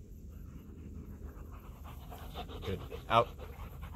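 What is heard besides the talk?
Belgian Malinois dog panting during tug play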